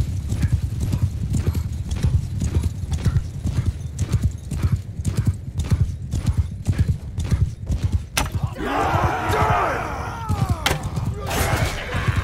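Horses gallop in a Mount and Blade 2: Bannerlord battle, a steady loud clip-clop of hooves running throughout with a horse whinny near the end, under the din of combat.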